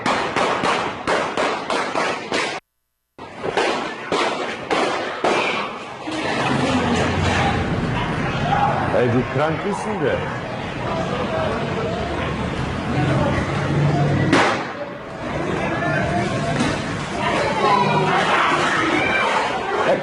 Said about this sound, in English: You'll hear the gunfire in just a second